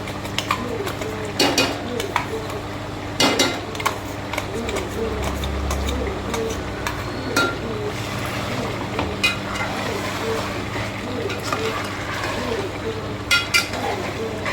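A paste of ground chili, coriander and cumin sizzles softly in a pan for chicken biryani, with occasional clinks of a spoon against the pot. The stirring continues steadily under a constant low hum.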